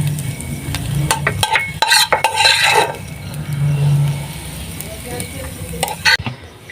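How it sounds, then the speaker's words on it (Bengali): Eggs fry in oil in a pan with a steady, close sizzle, broken by sharp metal scrapes and clinks of a spatula stirring and lifting them. "আমার ডিমগুলো ভালোভাবে ভাজা হয়ে গেছে"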